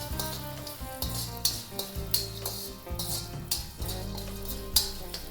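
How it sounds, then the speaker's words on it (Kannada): Chana dal, urad dal and cumin fry in a pan for Udupi-style bisibele bath, with a soft sizzle under repeated clinks and scrapes of a metal spoon against the pan and a low background hum. "ಬೇಳೆಗಳು ಚೂರು ಕಲರ್ ಚೇಂಜ್ ಆಗುವವರೆಗೂ ಫ್ರೈ ಮಾಡ್ಕೊಂಬಿಡೋಣ"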